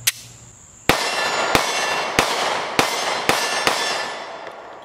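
A Kimber Solo Carry pistol fires Fiocchi 115 grain full metal jacket rounds: six sharp, loud shots at roughly half-second to one-second intervals, each ringing off briefly, outdoors with no talk.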